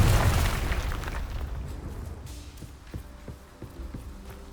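A Confringo fire curse spell from Hogwarts Legacy erupts in a loud booming blast, then fades into a rumbling tail with a few sharp crackling pops.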